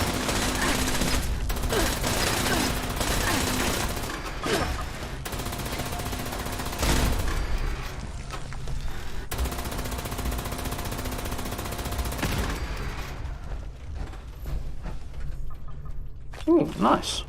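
Automatic weapon fire in the Fallout 76 wasteland, dense rattling bursts broken by short pauses and overlapping with game noise, with a voice talking over parts of it.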